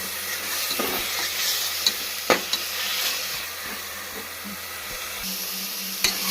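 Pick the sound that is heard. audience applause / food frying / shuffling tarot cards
food frying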